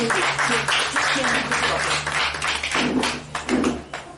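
A church congregation claps and cheers in praise of Jesus Christ, a dense run of hand claps lasting several seconds with a steady low hum beneath and voices calling out over it.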